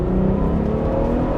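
Ferrari F12 Berlinetta V12 with 690 Nm of torque revving hard with stability control off: a loud, sustained engine roar whose pitch climbs slightly, close by and without talk.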